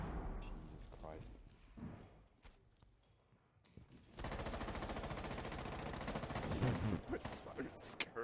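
Gunfire and explosions in a military video game, with a grenade blast amid sustained rapid automatic fire that grows loud and dense in the second half, with a player talking over it.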